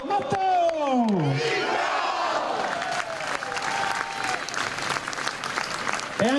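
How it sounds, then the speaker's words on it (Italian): A crowd greets a newly promoted Treviso basketball team with loud, sustained applause and shouting cheers, with a voice calling out over the noise at the start. "Un grande applauso"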